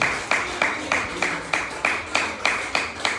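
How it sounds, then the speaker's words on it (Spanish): A church congregation claps for the King in a steady rhythm of about ten sharp beats, moderately loud and evenly spaced, with a low murmur underneath. "Denle un aplauso al Rey, porque Él vive por siempre."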